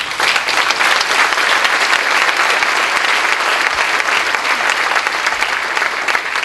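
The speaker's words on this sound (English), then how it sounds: "I knew that would get applause, Governor." A large audience applauds at a medical school groundbreaking with the governor present, producing a dense, loud, continuous wash of clapping that holds steady from start to finish.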